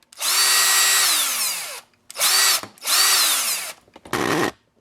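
A Craftsman 14.4V cordless drill/driver converted from NiCd to a LiPo battery whines loudly in four bursts, each spinning up and winding down, with the last burst short and rougher.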